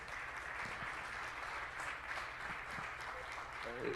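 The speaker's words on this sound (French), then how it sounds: "On peut l'applaudir bien fort." Applause from a crowd fills the room at a town council meeting, steady and moderately distant, with a voice speaking faintly underneath.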